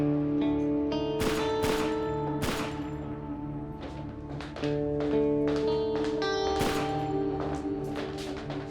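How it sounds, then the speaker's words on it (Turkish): Repeated sharp gunshots crack over a droning background, irregular single shots and quick bursts, loud and close. "Bu silah sesleri ne Ahmet?"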